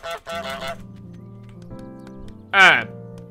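Goose in Untitled Goose Game lets out a single loud, brassy honk near the end, after a few short squawky bursts at the start, all over a low steady game music bed.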